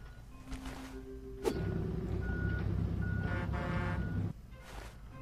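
Repeated electronic reversing beeps sound over the steady rumble of heavy machinery and truck engines at a construction site, at moderate distance.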